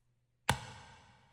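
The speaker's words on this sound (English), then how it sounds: "Most hip-hop impacts sound like this." A hip-hop style impact sound effect: a single sudden, punchy hit after a moment of silence, with a bright attack that rings out and fades gradually, heard alone.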